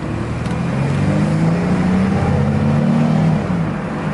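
A Chevrolet Astro minivan drives and accelerates, its engine droning loud and close with a rising then falling pitch as it pulls steadily, no voices over it.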